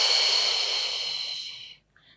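Steady breath exhaled during a Pilates posture exercise, a soft airy hiss lasting nearly two seconds before fading into quiet, heard close and alone.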